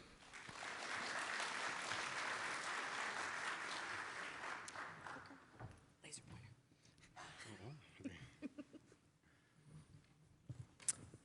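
An audience applauds to welcome two speakers at a medical talk on managing respiratory infections, a dense burst of clapping for about five seconds that thins out into scattered claps and movement.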